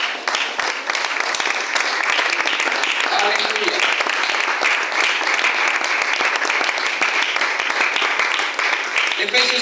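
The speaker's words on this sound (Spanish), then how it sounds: "¿Por qué no le damos un fuerte aplauso?" A church congregation at a baptism service applauds loudly and steadily throughout, while voices call out over the clapping.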